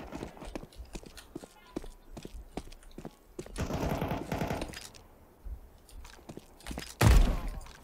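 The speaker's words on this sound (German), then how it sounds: "Der schießt schon, bevor ich um die Ecken komme." Counter-Strike 2 deathmatch gunfire: quick bursts of sharp shots, some distant and some close, in uneven clusters, ending in one loud nearby report.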